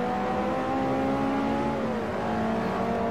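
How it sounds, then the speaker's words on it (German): A RUF sports car in Forza 4 accelerates hard on the Nürburgring Nordschleife, its engine roaring loud and steady with rising harmonic tones and a brief dip near the two-second mark before pulling on. "Die Beschleunigung ist wirklich brachial von dem Fahrzeug"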